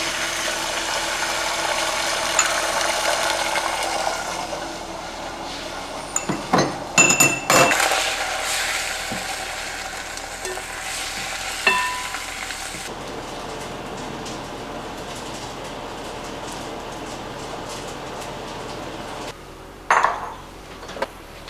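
Food cooks in a pot in a home kitchen during a morning routine. A steady low background hiss is broken by scattered metallic clinks and clatters of utensils against cookware, with a few louder bursts and no speech.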